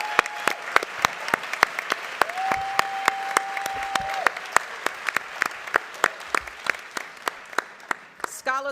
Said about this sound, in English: can you all join me in giving them a thunderous round of applause to show how much we love them and support them?